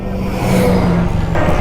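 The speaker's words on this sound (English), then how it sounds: "I know it's downshifting by itself." A 2021 Can-Am Spyder RT Limited three-wheeler's engine drones steadily and shifts pitch as it downshifts automatically, with a loud, close mechanical hum and wind, and no talk.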